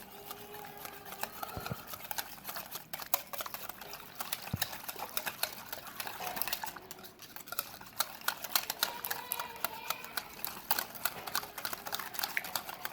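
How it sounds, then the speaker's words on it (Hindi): Pakora batter is mixed briskly in a bowl, giving a rapid, continuous stream of wet clicking and scraping. The beating is fairly close, holds a steady rhythm for the whole stretch and has no speech over it. "अब हम सबको मिक्स कर लेंगे।"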